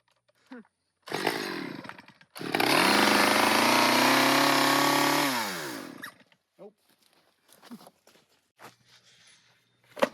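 Chainsaw pull-started and revving for a few seconds during land clearing, a loud, close, steady engine whine that cuts off, followed by scattered clicks and footsteps.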